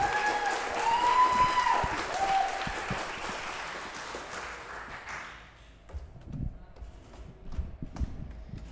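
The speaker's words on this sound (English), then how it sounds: "So give a round of applause and introduce Jen Solis." Audience at a comedy club show at The Orpheum applauding in a dense burst of clapping that thins out after about five seconds into scattered claps and faint room noise.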